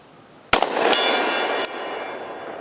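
A pistol bullet strikes a steel target with a sharp, loud impact, then a bright metallic ring like a church bell that sustains for about a second before cutting off, followed by a quieter secondary clang.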